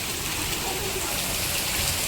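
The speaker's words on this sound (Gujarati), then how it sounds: "જોરદાર વરસાદ પડી રહ્યો છે અમારા ગામમાં." Heavy rain pours down on a village, a dense, even wash of drops close by with no breaks, steady and loud throughout.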